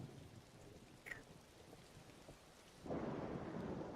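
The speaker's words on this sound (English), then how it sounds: "I love that ambience right now. The rain and the thunder." Rain falls steadily with rumbling thunder in an undead land in Divinity: Original Sin 2, a sharp crack early on and the downpour swelling louder near the end, with no talk.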